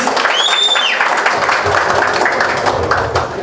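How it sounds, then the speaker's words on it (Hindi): A crowd at a Bhojpuri film trailer launch claps loudly and continuously on stage. A brief whistle-like tone rises and falls early in the applause. "मैं चाहूंगा सब उनके लिए जोरदार तालियां दें प्लीज।"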